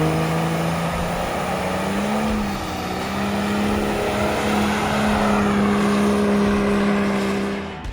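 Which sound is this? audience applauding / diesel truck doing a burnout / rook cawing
diesel truck doing a burnout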